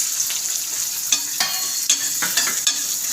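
Chopped onions sautéing with green chillies in a pan for chicken gravy, a constant bright sizzle broken by a few distinct spatula scrapes and taps, close and fairly loud.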